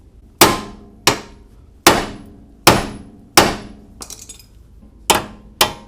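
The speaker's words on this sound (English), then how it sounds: "we're going to hit with the hammer really hard here until it pops out" Hammer blows on a CV axle of a 1998–2002 Honda Accord, driving it loose: seven sharp, loud metallic strikes at a steady pace, each ringing briefly, with a softer clatter between the fifth and sixth.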